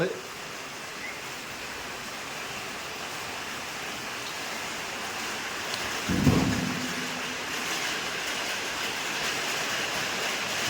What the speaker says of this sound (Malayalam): ഇനി മഴയാണ് നല്ല മഴയാണെങ്കിലും